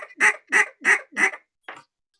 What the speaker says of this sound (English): have you guys ever heard of a bouncing hen call